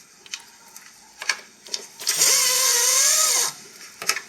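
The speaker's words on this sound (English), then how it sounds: "then I put the air ratchet in and" A 3/8 air ratchet turns a spark plug socket on a swivel extension in a Mercedes S500/S430 W220 M113 engine, giving one loud pneumatic whir of about a second and a half between light clicks and taps.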